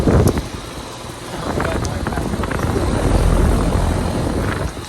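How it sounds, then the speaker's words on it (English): A central air conditioner's outdoor unit runs its fan with a steady, broadband whooshing roar, recorded close up and partly buffeted by wind, with no other sounds over it. "Some nice fan noise."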